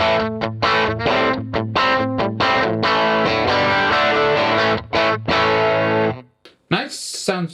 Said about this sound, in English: This is the bass cab.